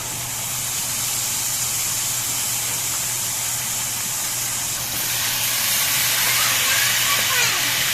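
Chicken sizzling in butter and oil in a pan makes a steady, loud hiss that grows slightly stronger partway through, with a low hum underneath.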